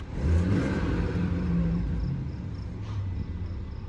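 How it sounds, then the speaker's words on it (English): The twin-turbo engine of a 2018 BMW 640i xDrive Gran Turismo rumbles and whirs with a steady, loud exhaust growl, holding a fairly even pitch with a slight rise near the start. "The sound of that twin turbo power. Nice and, I guess, gnarly exhaust."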